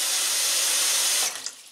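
Tap water runs into a sink for rinsing BFL wool fiber during scouring, a loud, steady rushing stream that cuts off abruptly near the end and leaves a few faint drips.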